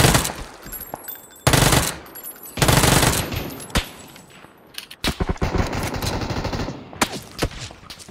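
Automatic gunfire in PUBG, fired from a distance, in several sharp bursts and scattered single shots, with irregular gaps between volleys and no voices audible.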